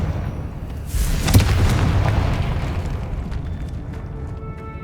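A booming blast from the Confringo spell in Hogwarts Legacy, a loud rumbling explosion with a sharp crack at its peak that slowly fades out.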